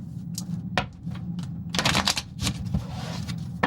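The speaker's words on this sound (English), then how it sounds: "I'm shuffling." Tarot cards being shuffled by hand, a series of crisp riffling and snapping bursts, close and irregular, with a louder flurry in the middle and short pauses between, no speech.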